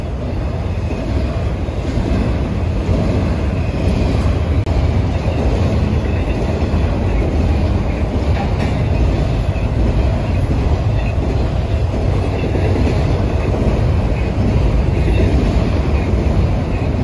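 A westbound CSX-led hotshot intermodal freight train, with a GE Evolution locomotive among its units, roars past close by in a loud, steady rush of wheels and rail clatter that holds evenly throughout, with no voices.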